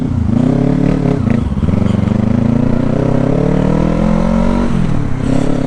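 Yamaha MT-25 motorcycle engine with its exhaust removed, loud and close, revving in rising and falling sweeps with a raw, harmonic-rich roar that holds steady between throttle blips.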